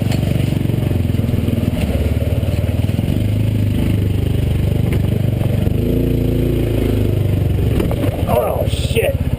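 A Massimo MSU400 4x4 UTV crawls over creek rocks and rotten logs, its steady engine drone under continuous crunching, scraping and clattering from the rough terrain.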